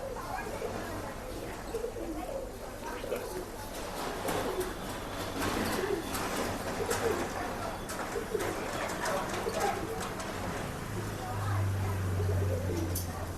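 A Guldar pigeon coos in low, throaty repeated calls near the recorder, mixed with other bird sounds and people talking in the background.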